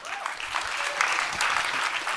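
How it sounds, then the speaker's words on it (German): An audience at a youth hackathon in Berlin applauds in a steady, even wash of many hands clapping, fairly close and sustained throughout. "Applaus für den Entertable."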